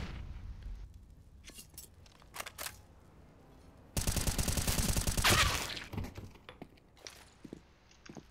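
Gunfire in Counter-Strike on the Overpass map: a few scattered sharp shots and clicks give way to a dense, loud burst of rapid automatic fire lasting about two seconds, then more sparse distant pops and footsteps.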